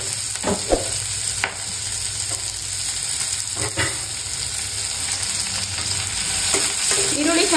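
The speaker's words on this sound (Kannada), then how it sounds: "ಈರುಳ್ಳಿ ಚೆನ್ನಾಗಿ ಸ್ವಲ್ಪ ಗೋಲ್ಡನ್ ಬ್ರೌನ್ ಬರೋ ತನಕ ರೋಸ್ಟ್ ಮಾಡ್ಕೋಬೇಕು." Onions roasting in a pan until golden brown, a continuous loud sizzle with repeated stirring scrapes and knocks of a utensil, close by with no talk.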